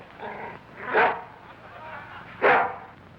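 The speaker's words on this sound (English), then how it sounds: "Get that dog out of this courtroom." A dog barks twice in a courtroom scene from a 1948 murder-mystery comedy film, each bark a loud, sharp burst about a second and a half apart, over a steady background hum.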